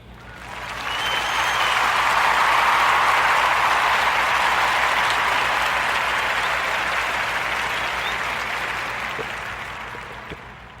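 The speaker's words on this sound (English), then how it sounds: "let's join me into putting our hands together and give Randy Hazelton of H&H Hospitality a" Audience applause for a hospitality guest, a dense, even wash of clapping that swells up over the first second, holds steady for several seconds, then slowly tapers off.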